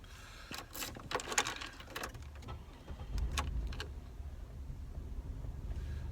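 A Pontiac's engine cranks and catches, followed by a steady idle with a faint whirring hum, heard up close with clicks and rattles early on.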